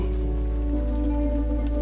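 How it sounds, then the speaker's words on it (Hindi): Rain falls in a steady, even wash, heard alone at moderate level over a low, constant hum. "अज पहली बारिश होई।"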